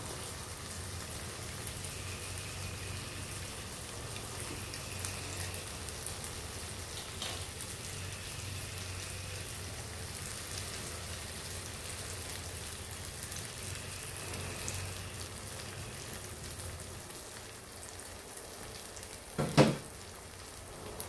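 Eggs sizzling in a hot pan for scrambled eggs: a steady, even crackle that lasts throughout, with one brief clatter near the end and no talking.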